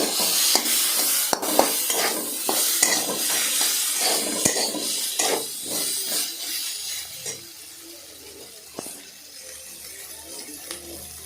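Chopped green chillies stirred in a pan while cooking ghugni, a spiced pea curry, make repeated close scrapes and metallic clinks over a steady background sizzle that fades slightly toward the end.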